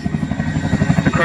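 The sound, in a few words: aircraft at an air display flying with an underslung load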